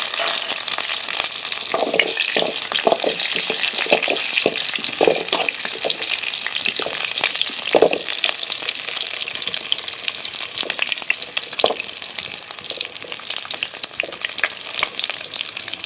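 Spices, including cinnamon and chili with ginger and tomato, sizzle and crackle in hot oil for garlic chutney, a continuous frying hiss with occasional stirring clinks and scrapes, no one speaking.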